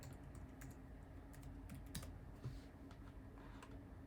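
A password is typed on a computer keyboard as a scattered run of soft, quick key clicks, faint and close, over a low steady hum, with no voices.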